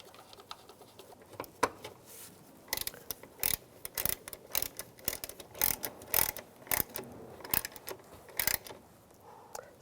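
Ratchet clicking in quick bursts as bolts are snugged down on the ignition coil cover of a 2006-2011 Cadillac DTS engine, close and crisp with brief pauses between strokes, no talking.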